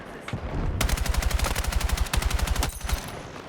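Rapid automatic gunfire in the video game Battlefield 6, a loud steady stream of evenly spaced shots rattling for over two seconds before cutting off, with faint talk underneath.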